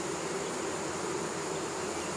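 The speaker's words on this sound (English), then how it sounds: "Dude, you need to get out of here while these bees are flying around" A swarm of bees buzzes in a steady, dense drone that stays close and constant throughout, with no voices over it.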